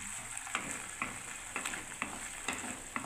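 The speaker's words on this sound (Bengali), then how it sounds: "এখনও ফুটছে" A Bengali curry of coriander leaves and poppy seeds bubbles in a pan, a soft continuous sizzle broken by regular clicking stirring strokes about every half second, quiet and close with no talking.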